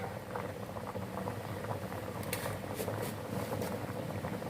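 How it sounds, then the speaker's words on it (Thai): A pot of chicken curry with wild banana stem comes back to a boil, giving a quiet, steady bubbling hiss with faint pops and no talk. "น้ำแกงเราเดือดอีกรอบนึง"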